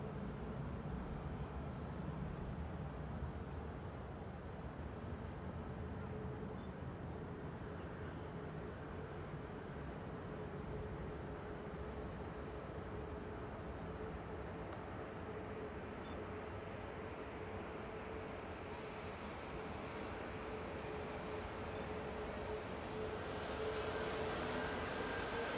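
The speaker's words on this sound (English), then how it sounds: "EasyJet just lining up for departure as well" An EasyJet airliner departing Manchester Airport for Pisa gives a steady, distant jet roar that holds evenly throughout, with no voices over it.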